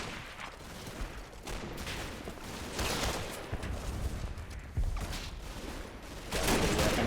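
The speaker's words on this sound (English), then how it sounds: "They're getting shot up a bit, but we're putting some fire back." Gunfire exchange in the Combat Mission: Battle for Normandy war game, a hedgerow fight with rifles and machine guns, heard as steady overlapping bursts and scattered shots with louder volleys toward the end, no talk.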